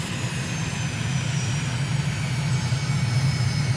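Turboprop aircraft engine in Microsoft Flight Simulator settling back toward idle, a steady loud drone with a low rumbling hum and faint high whine, continuous throughout with no talking.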